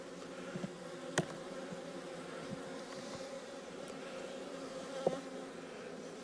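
Honey bees buzz steadily at an open hive during a spring colony inspection, a continuous droning hum with a few brief louder bumps close by.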